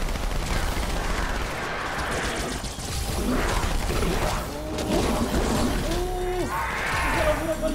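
Dense, continuous gunfire with mechanical clatter and whooshing effects, sustained and loud throughout, from combat in Halo 2 Anniversary.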